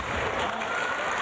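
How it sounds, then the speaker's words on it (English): Crowd applauding in a gymnastics arena at the 2006 World Gymnastics Championships women's team final, a dense, steady wash of clapping filling the space, with no voices heard above it. "You can hear the crowd in the background."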